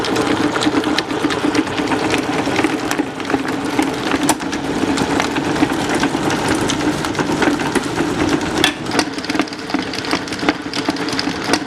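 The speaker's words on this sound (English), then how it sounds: "we're going to let this continue to mix for about 5 minutes so that it gets really, really soft" An electric mixer beats butter and powdered sugar for hamantashen dough in a pastry shop, a continuous whirring motor hum with steady rattling clatter throughout, loud and close with no speech.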